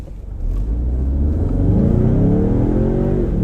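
A Dodge Challenger R/T or EcoBoost Mustang launching from 0 to 60 on the street, a loud close engine roar climbing steadily in pitch through the gears without a break.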